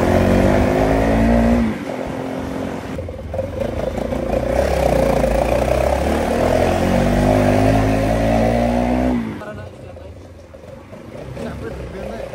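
A friend's motorbike engine runs loud and close, humming and revving steadily for several seconds, then drops away abruptly. Voices talk over it.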